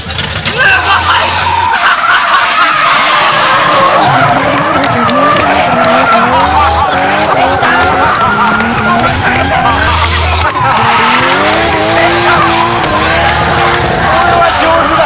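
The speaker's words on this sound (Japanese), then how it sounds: "あのリミッターの音もやだね。" Toyota JZX81 drifting on track, with loud screeching tires and an engine bouncing off the rev limiter in repeated stutters, while commentators talk excitedly over the noise.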